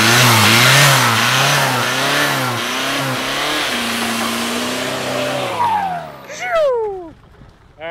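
Diesel and gasoline vehicles race side by side, engines roaring loud and close as they rev and climb through gears, the sound fading out as they pull away with a brief tire chirp.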